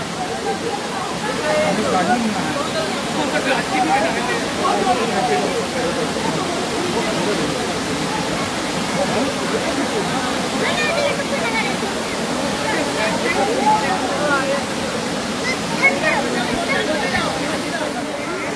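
Bamni Falls in Purulia roars as a steady, dense rush of falling water, with the voices of bathing crowds mixed faintly underneath throughout.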